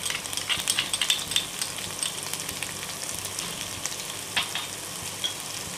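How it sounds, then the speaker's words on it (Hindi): Cumin, finely chopped ginger and garlic sizzling in hot oil for bread pakoda, a steady crackling fry with sharp spitting pops, close and moderately loud, no voices. "ऑयल गर्म हो चुका है तो इसमें हम डाल देंगे जीरा"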